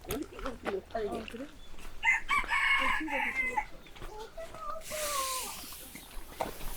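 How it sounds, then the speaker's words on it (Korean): Free-range chickens and a rooster outdoors on a farm in the Philippines, with repeated clucking and a clear rooster crow in the middle, sounding close over light outdoor background noise. "여긴 닭. 원래 밖에 풀어놓고 키운다."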